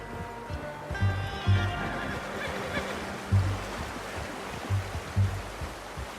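A horse in the Red Dead Redemption 2 video game whinnies in a few short, fairly loud bursts over a steady low rumble of ambient game sound.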